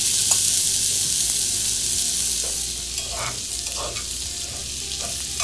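Purple potatoes frying in a hot pan, a steady close sizzle and hiss that runs throughout with a few soft stirring scrapes, and no talking.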